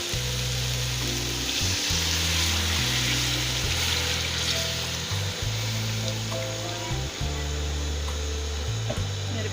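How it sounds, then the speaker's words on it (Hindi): Beef broth is poured into a pan of frying potato and green chilli curry, making a continuous, fairly close hiss and sizzle with liquid splashing, steady throughout with no talking. "अब मैं ये इसमें बीफ की यखनी शामिल कर रही हूँ।"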